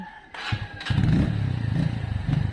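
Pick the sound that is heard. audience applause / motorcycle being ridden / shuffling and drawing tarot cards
motorcycle being ridden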